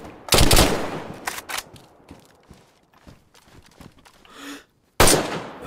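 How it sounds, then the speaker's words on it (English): Gunshots in DayZ during a firefight at a prison: a few sharp, loud reports spaced apart, with quieter clatter and movement in the gaps between them. "Put a bullet in his brain"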